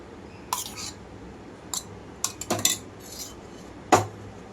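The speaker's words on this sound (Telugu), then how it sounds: "మొత్తం కూడా కలిపేస్తున్నాను" A spoon mixes thick yogurt marinade into raw chicken pieces in a bowl, giving a handful of sharp clinks and taps against the side at irregular intervals over a quiet background.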